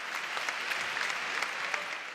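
A conference audience at Web Summit 2016 applauds: a dense, steady patter of many hands clapping together, moderately loud and even throughout, with no speech over it.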